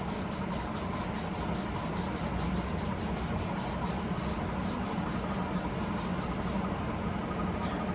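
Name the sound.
scrubbing steel tube with a Scotch-Brite prep pad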